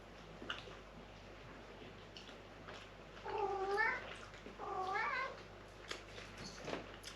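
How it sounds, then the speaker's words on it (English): A house cat gives two drawn-out meows in the middle, fairly close but soft, among faint clicks and small handling noises as it opens a door in a quiet room. "we have a cat opening the door"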